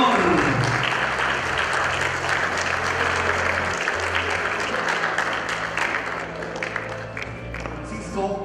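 Guests at a quinceañera celebration applaud as the court of honour couples are welcomed, a sustained, dense wash of clapping from a crowd with music beneath it, slowly easing off toward the end.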